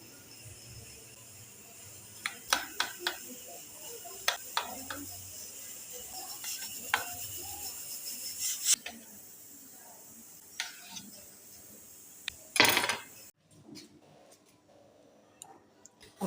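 Knife cutting two blocks of paneer into medium-sized pieces on a board, heard as scattered soft clicks and taps with one louder knock near the end, fairly quiet against a faint room background.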